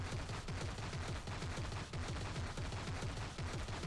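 Nick Fury's covering fire skill in Marvel Heroes Omega, a rapid, sustained machine-gun stream of evenly spaced shots, dense and continuous, heard on its own.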